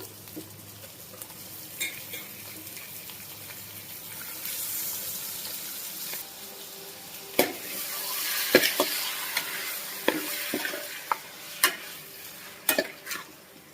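Mutton cooks in an open pot rather than a pressure cooker, with a soft steady sizzle and watery bubbling broken by scattered clinks and scrapes of a stirring spoon against the vessel.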